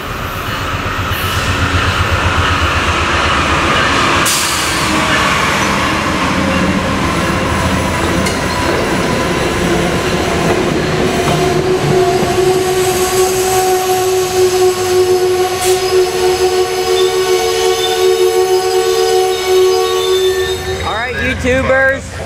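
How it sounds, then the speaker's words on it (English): An Amtrak Northeast Regional train, northbound, rolls into Alexandria, Virginia station with a loud steady rumble of wheels and cars, rising squealing brakes and wheel screech, and a brief clatter near the end. "we've got Amtrak PO94 Northeast Regional coming into Alexandria, Virginia."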